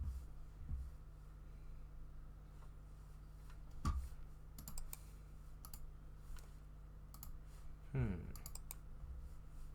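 Sparse, quiet computer mouse clicks while playing the Rescue 2 video game, scattered single clicks over a low steady hum, with a few louder thumps.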